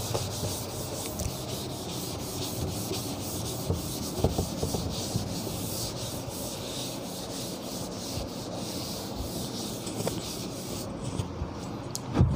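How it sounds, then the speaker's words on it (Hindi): A classroom board is wiped clean with steady back-and-forth rubbing strokes, close and continuous with small knocks, and no voices. "मैं इसे इरेज कर लेता हूं।"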